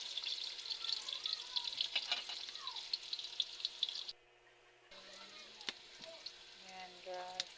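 Ginger sizzling and frying in a hot pan as it is sautéed for adobo, a steady crackling hiss close by for about four seconds, then a short quiet gap before softer sizzling and clinks return.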